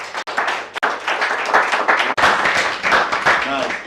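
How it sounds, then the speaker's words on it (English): A studio audience applauds loudly and continuously, with dense clapping throughout and a few brief breaks in the sound. "A round of applause for yourselves again."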